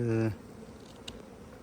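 A short, loud burst of honeybee buzzing close by, around drones during hive splitting, cuts off quickly, leaving faint background hiss.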